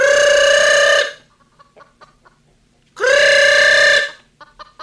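Two loud, close calls from chickens, each about a second long with a strong harmonic, crow-like tone, separated by a pause filled with faint clicks and scratchy movement.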